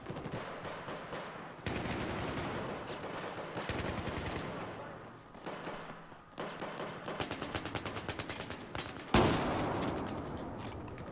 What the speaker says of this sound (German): Das war ein Headshot, Alter.